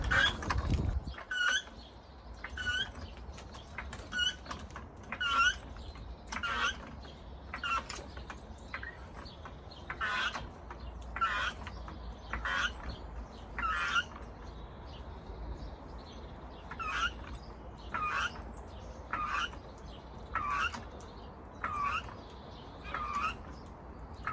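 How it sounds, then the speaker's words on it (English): A Sealey 2001LERE trolley jack is pumped under a car's jacking point, giving a regular series of squeaky creaks, one per stroke, repeating steadily at close range. "let's see how it jacks and see how it goes with the lift"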